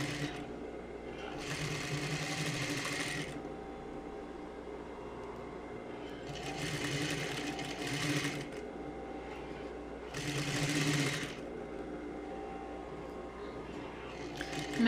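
A sewing machine stitches the seam of a basic lined skirt in three bursts of fast, steady whirring, each a few seconds long, separated by quieter pauses with a low background hum.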